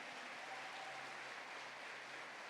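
An evangelical church congregation at an event in Mexico gives sustained applause, a faint, even wash of clapping heard from a distance with no breaks.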